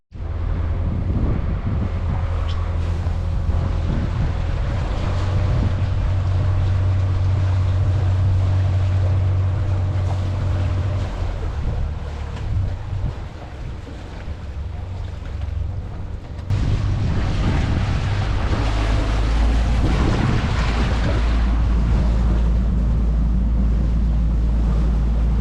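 Steady wind of 10 to 12 knots buffets the microphone while a boat holds station on one stern line during stern-to docking, a loud continuous rumble with water noise and a gust shift midway.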